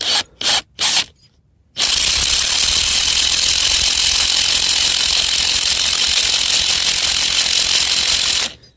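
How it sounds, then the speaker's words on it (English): A few short bursts of a power drill, then a long steady high-pitched drilling whine as it bores a tap hole into a maple tree, running unbroken for several seconds before stopping. "once I'm at the tree, I just stick my drill bit at an angle"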